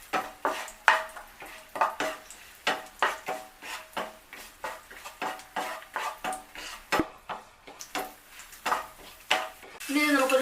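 A spoon scrapes and clinks against a pan as raisins and almonds are stirred through hot ghee with beetroot, a string of regular, fairly close metallic strokes with short gaps between them.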